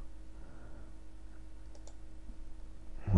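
A computer mouse gives a couple of faint, soft clicks over quiet room tone, followed by a louder, abrupt burst of noise right at the end.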